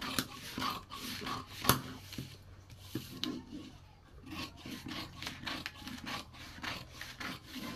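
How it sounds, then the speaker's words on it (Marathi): Scissors cut through back and front pieces of blouse fabric for a katori blouse, with close, steady rasping snips and occasional sharp clicks, in a quiet room with no talk. "बॅक पार्ट आणि फ्रंट पार्ट दोन्हीही संगत कट करत आहोत आपण"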